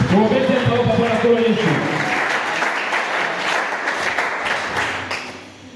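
A church congregation breaks into loud, sustained applause at a sermon, with voices calling out over it at first. The clapping continues alone and fades slightly toward the end.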